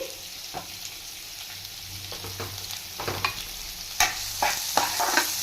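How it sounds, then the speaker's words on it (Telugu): Thinly sliced large onion sizzles in a pan for chutney, with a steady frying hiss and a run of scraping and tapping stirs that grow busier and louder toward the end, no voices present. "ఈ ఆనియన్ కూడా ఫ్రై చేసుకోవాలా"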